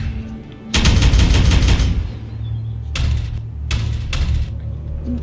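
Gunfire in Warhammer 40K: Regicide, a long loud burst of shots followed by two shorter blasts over a low hum of battle background.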